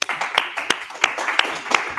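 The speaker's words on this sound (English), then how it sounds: "give a round of applause for him" A small audience gives a short burst of scattered applause for a guest speaker at a dApp entrepreneurship course pitch session. Uneven claps are heard close by for about two seconds.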